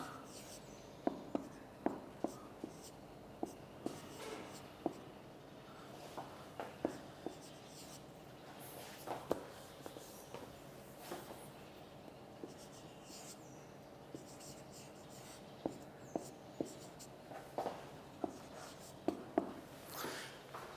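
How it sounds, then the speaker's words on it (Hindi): Marker or chalk writing on a classroom board, with scattered scratchy strokes and sharp taps across a steady hum of room tone, faint and fairly distant. "मैं लिख भी देता हूँ ये, इदारा"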